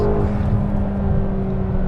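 A McLaren GT engine drones loudly and steadily from inside the car while accelerating, a deep continuous hum with a faint whine, holding level rather than sharply revving.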